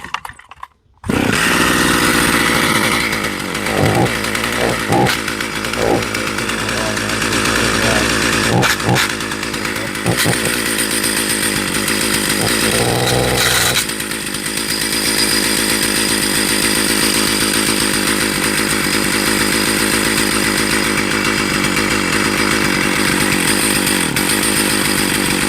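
A Stihl 028 AV Wood Boss chainsaw engine roars loud and close, running steadily throughout after a brief sputtering start.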